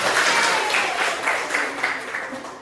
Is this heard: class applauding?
yes